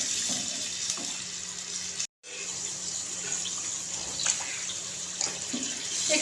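Water from a glass poured into a pan of fried masala for an aloo besan sabzi, a steady rushing splash that runs continuously with one brief break, close and fairly loud.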